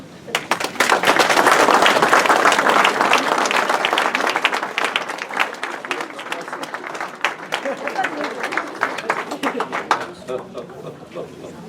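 Audience applause at a French waste-management syndicate ceremony, honouring its longtime former president: dense, loud clapping that swells early, holds, then thins into scattered claps, with talk rising near the end.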